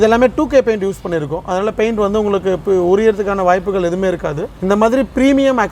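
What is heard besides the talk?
No everyday noises stand out.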